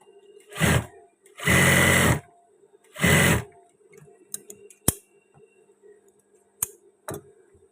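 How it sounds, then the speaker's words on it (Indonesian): A sewing machine stitching a batik garment runs in three short loud bursts, then falls quiet apart from a few sharp clicks and ticks, close by with no talk. "Ini langsung menjahit belahan yang satunya."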